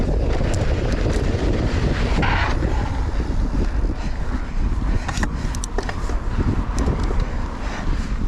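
Strong wind roars and buffets constantly against the microphone, loud and rough, with a few faint clicks and rattles mixed in.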